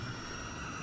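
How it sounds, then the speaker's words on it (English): A helicopter in the video game Spec Ops: The Line produces a steady, droning engine and rotor roar, continuous and fairly faint, with no other sounds over it. "It's a helicopter."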